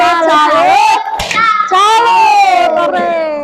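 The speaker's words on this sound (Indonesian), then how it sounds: "Oke, tepuk salut." A primary school class of children performs the tepuk salut cheer in a classroom, with chanted young voices and a few sharp claps, loud and close, continuous throughout.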